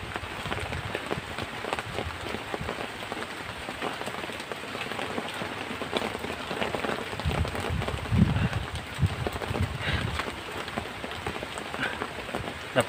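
Heavy rain pours down steadily, a dense hiss of drops drumming on a surface, loud and continuous throughout with no voices.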